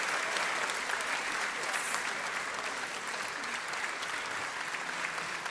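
An audience applauds at an award ceremony for the Metų Klaipėdietė contest in Klaipėda: a dense, steady wash of clapping from a crowd that keeps going throughout.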